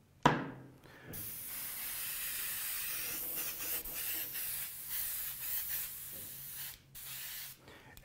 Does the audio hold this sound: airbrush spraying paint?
yes